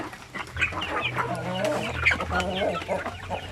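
An RTL Basilan hen clucks after laying eggs, a close run of rapid, uneven clucks and squawks over low farmyard background noise.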